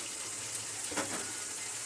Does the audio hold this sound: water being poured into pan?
yes